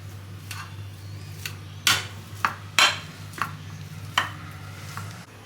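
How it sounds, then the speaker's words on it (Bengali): Boiled potatoes are mashed in a bowl, heard as a few sharp, irregular knocks and scrapes of a utensil against the bowl over a quiet, humming background. "ম্যাস্ট করে নিচ্ছি এভাবে"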